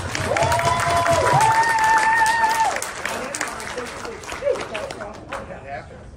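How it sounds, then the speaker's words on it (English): Applause and cheering from a live comedy audience, loud clapping and whoops at first that thin out, with voices talking over the crowd as it fades. "Give him a round of applause."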